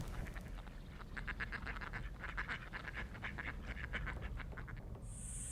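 Ducks quack in a series of rapid nasal calls over a constant low background rumble, fairly faint and without talk.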